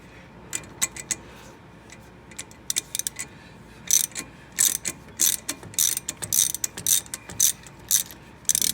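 A ratchet tightens a timing cover puller on a Dodge 5.9L engine, sparse clicks at first, then rapid bursts of close, crisp ratcheting in quick repeated strokes.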